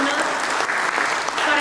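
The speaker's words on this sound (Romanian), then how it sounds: "Vă aplaudăm, Liliana Albu" Loud, dense applause fills a book launch held at the Palace of Parliament, continuous clapping from a crowd throughout the short stretch.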